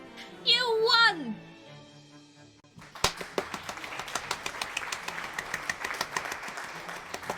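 Applause in the video game Shadows Over Loathing: after a stretch of voiced, sung sound, a rapid run of crisp claps starts abruptly and carries on steadily to the end, moderately loud.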